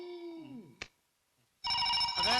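A telephone rings twice in electronic bursts separated by a short silence, the tones loud and close.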